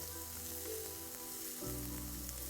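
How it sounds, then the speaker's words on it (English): Chopped onion fries in a pan as the base for a tomato, rice and vegetable soup, giving a steady, close sizzle with a faint low hum under it and no talking. "As you can see, the onion are beginning to cook."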